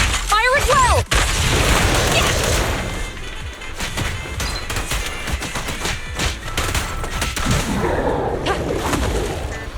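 Gunfire in the video game Zenless Zone Zero: dense, loud bursts of rapid shots and booming impacts run almost continuously, with shouting voices mixed in during the battle.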